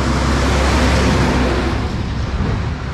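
Steady, loud roar of passing cars and trucks on a busy two-lane road at the foot of a Maryland mountain, a continuous rushing wash of tire and engine noise with no pauses.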